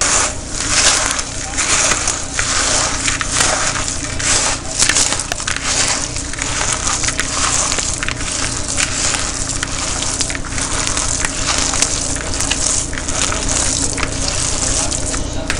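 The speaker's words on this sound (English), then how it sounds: "to make sure everything's mixed well, you're going to use your hands" Hands squish and knead raw meatloaf mixture in a bowl, producing continuous wet, squelching mashing sounds at close range with steady irregular rhythm and no talking.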